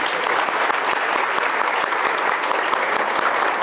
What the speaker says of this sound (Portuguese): E isso merece uma salva de palmas.